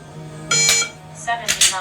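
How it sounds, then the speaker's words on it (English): Two short electronic shot-timer buzzer tones about a second apart, harmonic-rich and loud against a quiet background, during shooting practice. "Shoot it ready at the buzzer."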